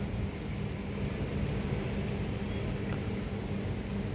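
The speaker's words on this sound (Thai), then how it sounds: "นี่บรรยากาศฝนตก" Steady rain falls outdoors as an even, faint hiss that lasts the whole time, with no voices.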